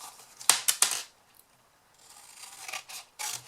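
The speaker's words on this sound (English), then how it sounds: "use your trimmer or a pair of scissors to cut these down" Several quick crisp snips of scissors cutting paper, then a pause and a few softer rustling cuts.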